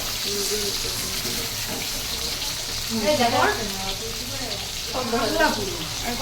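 Steady sizzle of prawns frying in a pan, with bursts of voices talking over it partway through.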